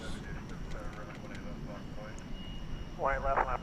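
A Boeing 777 arriving from Venice roars in to land at Dallas Fort Worth airport at night, a broad, distant jet rumble with a rising whine, while people talk over it for much of the time.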